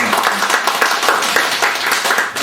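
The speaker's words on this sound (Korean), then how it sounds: "박수 한번 부탁드립니다" An audience applauding at a lecture on the Donghak Peasant Revolution: dense, steady clapping from many people, fairly loud and continuous for a couple of seconds.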